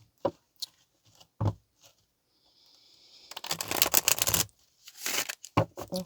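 Tarot cards being shuffled by hand, with several short riffling bursts and a longer, louder run of flicking cards in the middle, close and crisp with no talk.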